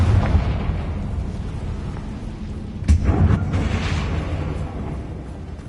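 A fiery Confringo spell blast erupts in a Hogwarts wizarding game, one sharp booming burst rising midway out of a steady low rumble.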